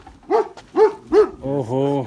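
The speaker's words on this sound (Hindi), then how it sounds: "बहुत ही बड़ा कुत्ता है।" A very large dog at a mountain village in Pangi barks three times in deep, evenly spaced woofs, followed by a drawn-out vocal sound. Loud and close, with a brief exclamation from a person.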